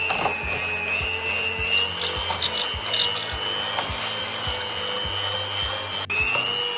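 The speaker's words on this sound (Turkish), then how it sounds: "Mikserimi kapatıyorum canlarım." An electric mixer whirs steadily with rhythmic thumping and scraping as the beaters work through thick profiterole choux dough.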